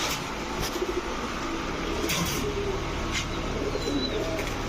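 Domestic pigeons, racer and Giribaz breeds kept in pairs, coo softly amid a constant background hum, with brief faint chirps scattered through.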